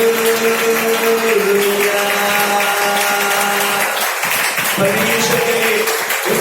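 A church congregation at a Holy Spirit worship service claps loudly and continuously, with dense applause filling the room and faint tonal sounds underneath.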